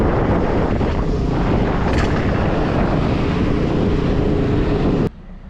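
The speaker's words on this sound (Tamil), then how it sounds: "ஃப்ளைட்லாம் பறக்குது மேலே." An airplane flies overhead near Guindy in Chennai, a steady loud roar under wind buffeting that stays constant for about five seconds and then drops off abruptly.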